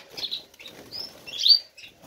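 Pet birds chirp indoors in a quick series of high, bright tweets and short calls, some overlapping, with brief pauses between bursts and no talking.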